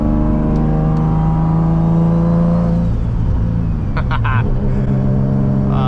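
A turbocharged Nissan Z with a Tomei exhaust idles with a deep exhaust rumble, then revs up briefly as other vehicle noise passes nearby.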